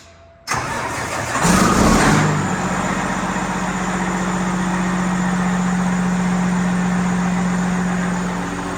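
A large diesel semi truck with a 13-speed transmission cranks and fires up, then settles into a steady, loud, rumbling idle close by.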